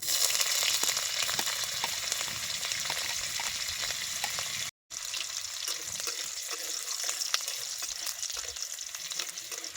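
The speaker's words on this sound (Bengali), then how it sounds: "কুচাই রাখা রসুন আর কাঁচা লঙ্কা তেলের মধ্যে দিয়ে দেবো" Chopped garlic and green chilies fry in white oil in a hot wok with a steady, fairly quiet sizzle, broken by a brief cut near the middle, with no talking.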